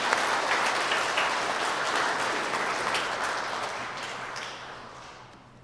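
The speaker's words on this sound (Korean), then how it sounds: "하나님께 우리 모두 영광의 박수로 한번 드리겠습니다" Church congregation applauding during a Sunday worship service, steady broad clapping that fills the room and gradually tapers off toward the end.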